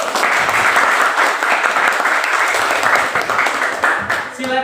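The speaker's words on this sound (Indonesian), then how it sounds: "Tepuk tangan untuk semua kelompok." A classroom of students applauds all the discussion groups, loud and steady clapping close by that fades slightly near the end as a voice comes in.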